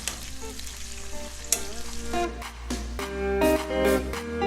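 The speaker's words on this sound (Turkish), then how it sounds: "Yalnız biberleri çok fazla kızartmayacağız." Peppers frying in a pan for a farmhouse-style kebab, a steady close sizzle with bursts of crackling and scraping stirs that swell toward the end, no talking.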